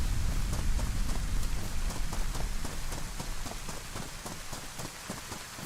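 Rain in the survival game DayZ, steady and dense patter on surfaces, with a regular train of footsteps or hoof-like thuds running through it.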